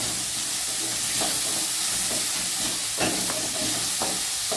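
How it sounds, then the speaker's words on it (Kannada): Green chillies and onions frying in hot oil in a pan, a dense continuous hiss and sizzle with occasional crackles and soft stirring knocks, close and steady. "ಹಸಿ ಮೆಣಸಿನ್ಕಾಯಿ ಅಂತ ಇದರಲ್ಲಿ ಹಾಕ್ಕೊಳ್ತೀನಿ ಚೆನ್ನಾಗಿ ಫ್ರೈ ಆಗಲಿ"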